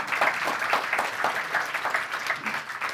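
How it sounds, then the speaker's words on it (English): Applause from a room of attendees at a talk, a steady dense patter of many hands clapping throughout, fairly close and even in level, with no clear speech over it. "Can we give a round of applause to the new people?"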